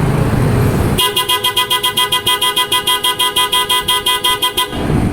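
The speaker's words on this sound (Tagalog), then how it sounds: "So pakinggan natin mga boss yung tunog ng auto style horn." A loud auto style car horn on a Toyota Hi-Ace honks in rapid, evenly spaced bursts, about two dozen short blasts in a row, with no talking.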